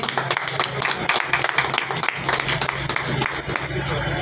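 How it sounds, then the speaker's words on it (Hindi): A crowd at a birthday gathering in Bulandshahr applauds to welcome a speaker, dense continuous clapping with scattered sharp claps, with voices mixed in beneath. "जोरदार तालियों से स्वागत करें भाई के"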